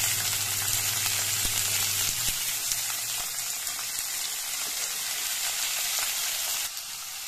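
Squeezed bitter gourd pieces sizzle steadily in hot groundnut oil, a dense continuous hiss of frying that holds loud and even for several seconds before dropping slightly at the end.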